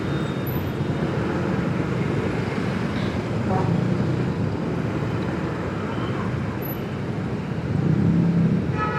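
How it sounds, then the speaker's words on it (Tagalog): Heavy road traffic passes a rider on a bike, with a steady rumble of car engines and road noise that swells now and then as vehicles go by, while someone talks over it. "Grabe yung traffic."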